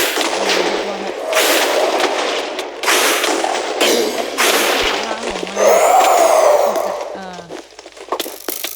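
Repeated explosions in Minecraft 1.12 during a Wither battle on a Hypixel server, sharp booming bursts recurring through the clip amid game noise, with people talking excitedly over them.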